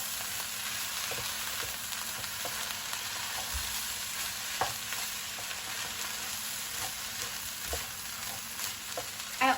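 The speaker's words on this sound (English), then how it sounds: "Give it a nice stir." Chicken fried rice sizzling steadily in a pan, with a continuous frying hiss and occasional scrapes and taps of a utensil as it is stirred, close and fairly quiet with no talking.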